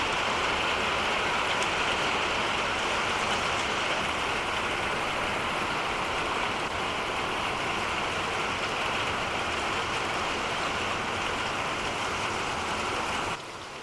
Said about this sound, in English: I'm just going to let the rain stop